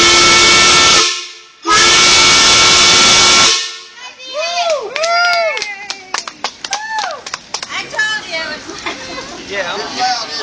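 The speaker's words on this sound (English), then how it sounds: "This whistle's really, really loud." A very loud sawmill whistle blows at a sawmill demonstration show in two long piercing blasts with a short gap between them, followed by clapping, cheering and people talking nearby.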